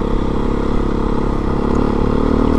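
A Beta 390RR on Michelin Enduro Medium tyres with a TUbliss system drones steadily at gentle trail-riding pace, its engine loud and close with no change in speed; no speech.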